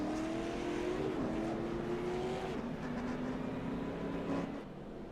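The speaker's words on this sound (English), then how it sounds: "you hear him shutting the motor off" Engine drone of a race car in the iRacing simulator, a sustained steady hum with a slowly dropping pitch that cuts down near the end as the motor is shut off.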